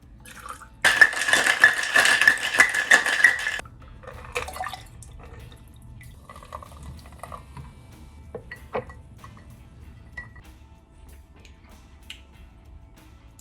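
A Hiwassee River water cocktail is mixed: a few seconds of loud, noisy rattling and pouring, followed by quieter clinks, taps and small drips with no talk.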